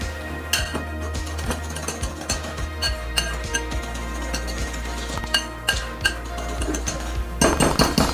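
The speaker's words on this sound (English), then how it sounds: "That seems pretty whisked together." A whisk beating vinegar pie filling in a bowl, sharp metallic clinks and taps against the bowl's sides in an uneven rhythm, close and clear with steady kitchen hum beneath.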